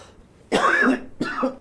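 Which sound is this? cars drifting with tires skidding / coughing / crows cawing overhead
coughing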